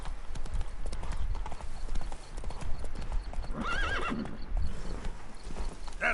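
Roach, a horse in The Witcher 3: Wild Hunt's Blood and Wine expansion, trots with steady hoof clops and gives a clear whinny partway through, set against ambient game sound.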